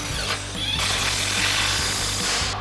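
Ratchet wrench with a 19mm socket tightening a sway bar bracket bolt on a 2024-2025 Toyota Tacoma during an Ironman 4x4 lift kit install, a steady close mechanical rattle of clicks running continuously with no talk.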